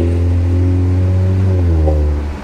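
An automatic car's engine revs loudly and close, a steady low drone that rises and falls slightly in pitch before easing off.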